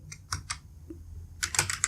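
Computer keyboard keys clatter in a terminal while an nmap network scan command is entered, a few quick bursts of typing followed by a firmer final keystroke like the enter key, close and fairly quiet with no talk.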